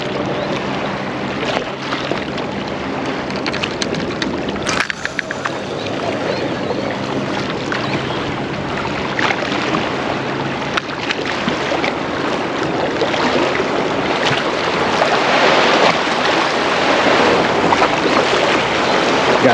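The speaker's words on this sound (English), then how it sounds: "Got some nice waves coming in today." Ocean waves roll in toward a shore on a fishing outing, making a loud, continuous washing roar with wind gusts and no pauses across the whole stretch.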